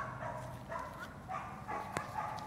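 An American Pit Bull Terrier barks in a few short, repeated bursts at close range over a steady background.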